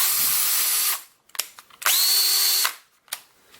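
A DeWalt 12V Max lithium-ion cordless drill with two speeds whirs in two bursts, each about a second long, with a brief pause and a few clicks between them.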